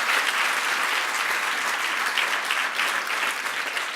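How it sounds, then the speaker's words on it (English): An audience at an awards lunch breaks into sustained, dense applause, loud and close, holding steady for several seconds with no talking over it. "let's just give her a round of applause"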